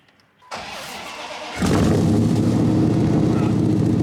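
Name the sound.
Dodge Dakota truck engine starting after a year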